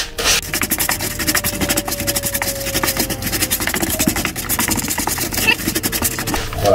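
Salt being stirred and rubbed together with a flavouring mixture for smoked salmon, a continuous gritty scraping and rubbing close up, steady and loud throughout with no talking.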